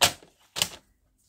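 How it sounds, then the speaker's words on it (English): A paper trimmer cutting card stock for a handmade card, two sharp close slicing clacks about half a second apart, then quiet. "now I'll grab our paper trimmer and trim these up to fit on our card"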